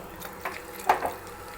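Water is poured into a cooking pot of mashed tomato pulusu. It comes as faint, soft splashing bursts over a low, steady background.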